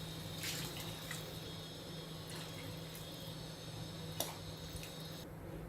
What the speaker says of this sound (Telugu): ఇప్పుడు ఇందులో నీళ్లు వేసేసుకుందాము